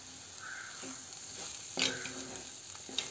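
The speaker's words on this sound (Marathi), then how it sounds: "पाव चमचा हळद आणि पुन्हा छान परतून घ्यायचं आहे" Spices with potato and green peas sautéing in a pan, a soft sizzle under a couple of sharp spoon clinks and brief scraping stirs.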